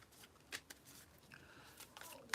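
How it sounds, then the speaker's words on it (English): Tarot cards shuffled in short bursts during a reading, soft papery riffles and taps at close range, fairly quiet and intermittent. "3 more shuffles."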